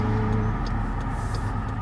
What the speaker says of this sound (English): Catching the tail end of rush hour traffic here